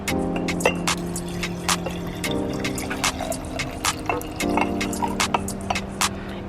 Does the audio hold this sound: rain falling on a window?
no